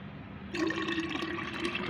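Water is poured from a container into fenugreek seed fertilizer, starting suddenly as a steady close splashing gurgle that continues without talk.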